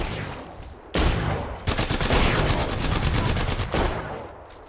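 Rapid gunfire in the battle royale video game Apex Legends, loud bursts of automatic shots that swell in after a quieter opening and keep firing densely for several seconds.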